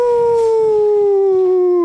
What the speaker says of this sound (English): Why is bro howling?